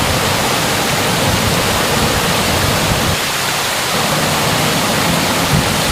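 Duwili waterfall at Neluwa, Sri Lanka, falling in about three tiers, roars with loud, dense, continuous rushing water heard from close by, with no speech.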